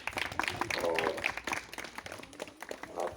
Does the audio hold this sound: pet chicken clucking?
no